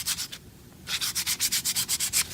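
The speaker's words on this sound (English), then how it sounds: "Just keep rotating as you sand it." Sandpaper is rubbed around a small wooden lock tumbler part: close, steady rasping strokes in a quick even rhythm after a brief pause.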